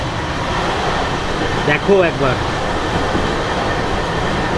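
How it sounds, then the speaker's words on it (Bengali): LHB coaches of the Netaji Express running at 110 km/h past Dankuni station give a steady broadband roar of wheels and air conditioning inside the carriage, while a voice speaks briefly midway. "এখনো কিন্তু ট্রেন 110-এই যাচ্ছে।"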